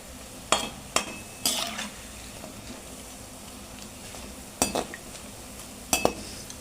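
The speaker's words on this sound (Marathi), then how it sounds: "या खायला सगळे चांगले असे लालसर असे भाजू द्यायचे" Onion bhaji frying in oil makes a continuous bubbling sizzle, with several sharp metallic clinks and scrapes from a slotted spoon stirring at intervals.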